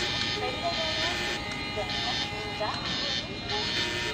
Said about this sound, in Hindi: सेकंड हॉर्न बजाते हैं और डिपार्ट करते हैं